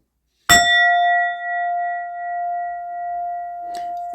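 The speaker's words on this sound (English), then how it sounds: "Let me hit the bell." A single bell is struck once with a sharp clang, then rings out in a long, clear, steady tone that slowly fades, with a faint knock near the end.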